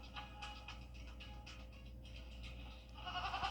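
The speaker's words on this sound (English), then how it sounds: "What's with all the goats?" Goats bleat faintly in a television advertisement, with several soft, quiet calls running throughout over a low background hum.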